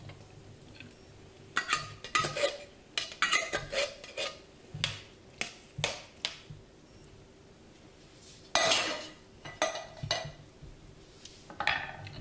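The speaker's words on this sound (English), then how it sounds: "Next, we're going to add our can of kidney beans. And you can add the liquid that's in the can as well as the beans." Canned kidney beans and their liquid go into a pot of minestrone soup, heard as a run of metallic scrapes, taps and clinks from the can and pot, irregular and close, with no talking.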